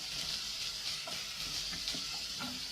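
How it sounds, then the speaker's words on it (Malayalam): Ginger, garlic and green chili sizzle steadily in an oiled pan over a medium flame while cooking tapioca chicken biryani, a continuous bright frying hiss with occasional soft stirring clinks, close and even throughout. "ഈ ഇഞ്ചി, വെളുത്തുള്ളി, പച്ചമുളക് ഇതങ്ങിട്ട് കൊടുക്കാം."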